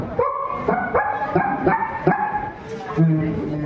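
At a school inter-house cultural competition, a voice imitates puppies barking: a quick series of about seven short, high yips in an uneven rhythm, close and clear, ending on a whimpering note.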